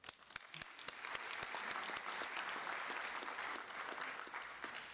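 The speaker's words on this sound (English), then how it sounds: "So, a round of applause to our audience." Sustained audience applause at a drone industry conference, dense and steady clapping from a large room that swells after a few sharp early claps and holds for several seconds.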